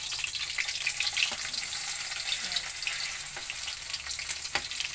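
Food frying in hot cooking oil in a home kitchen, a steady dense sizzle running throughout with brief clinks and stirring noises on top, close and fairly loud, with no talking.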